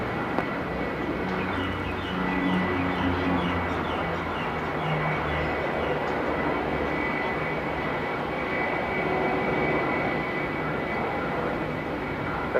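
Airbus A350 jet engines roar steadily at Melbourne Airport, a loud, sustained broadband rumble with a faint high whine and no voices.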